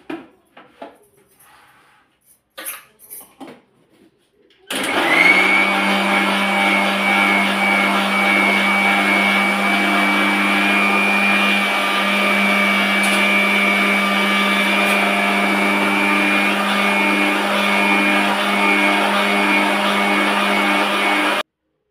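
An electric mixer churning cream into homemade butter, a loud, steady whirring drone that starts abruptly after a few quiet knocks and runs on without a break.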